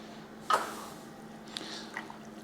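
Slow-cooked beef rolled over in its pan juices, giving a soft wet squish and a couple of faint liquid drips over quiet room tone, with no talking.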